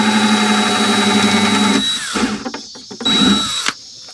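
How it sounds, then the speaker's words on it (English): A power drill bores a small hole for a propane tube inside a van being fitted out, the motor whining steadily for about two seconds, then two shorter bursts with pauses between, close and loud. "I just drilled another hole right here, just a small one for the propane tube"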